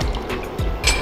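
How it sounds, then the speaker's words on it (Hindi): One cup of milk poured into a pot to boil for golden milk, a short liquid splash with a faint clink of the vessel, close and fairly loud with no voices. "1 कप मिल्क ले लिया है, इसको बॉईल करने के लिए रख देंगे।"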